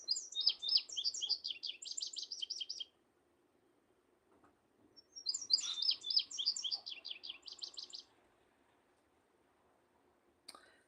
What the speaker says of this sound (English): We'll do the indigo bunting.